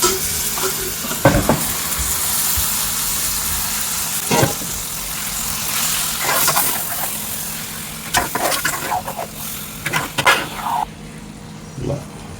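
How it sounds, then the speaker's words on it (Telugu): Marinated chicken sizzles loudly in a pan as it is stirred for restaurant-style chicken curry, a continuous frying hiss broken by several scraping strokes of the spoon throughout. "ఇప్పుడు మనం మ్యారినేషన్ చేసేటట్టు పెట్టుకున్న చికెన్ని దీంట్లో వేసేసుకుంటున్నాం"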